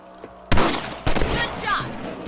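Gunshots ring out while hunting rabbits in Red Dead Redemption: two sharp loud reports about half a second apart, then a softer burst, with voices in the game around them.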